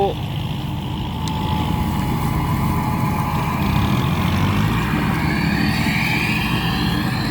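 A farm tractor engine drones steadily close by while ploughing, a constant low rumble, with a faint rising whine toward the end.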